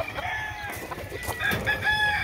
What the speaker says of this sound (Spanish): Miren qué belleza de gallo.